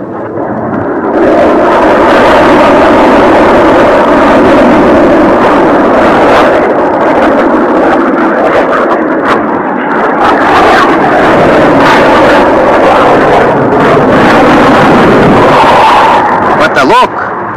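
A Soviet MiG-21PFM jet fighter flies an aerobatic demonstration, its loud, continuous roar rumbling for the whole stretch. Speech from a public address announcer is mixed in.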